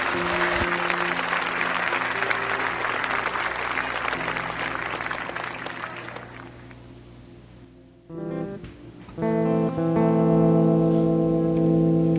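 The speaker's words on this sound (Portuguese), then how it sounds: "As palmas louvam o Senhor." Church congregation clapping during a worship service, loud sustained applause that fades after several seconds, then organ or keyboard chords and music rise as the clapping ends.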